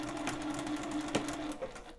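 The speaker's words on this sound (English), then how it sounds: "So I'm gonna go ahead and start sewing." A sewing machine stitches a zipper pouch made from a kit, starting with a few secure back stitches. The motor gives a short, fairly quiet whirring run with a steady pulsing rhythm, and no one speaks.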